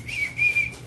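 A person whistles a thin, high tone close by, in two short bursts separated by a brief pause, with no talking.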